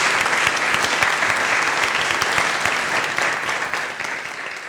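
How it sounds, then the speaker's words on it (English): At a climate forum in Queensland, a panel receives a loud, sustained round of applause from the audience, dense and close throughout, easing slightly toward the end. "Could we please give the panel an amazing round of applause for their openness and their insights?"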